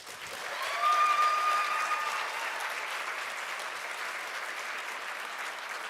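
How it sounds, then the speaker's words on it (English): A crowd at a school district awards evening breaks into a strong round of applause for a sixth grade Teacher of the Year. The clapping swells quickly, then holds as an even, sustained wash. "let's please give a big round of applause and recognize the 6th grade center Teacher of the Year"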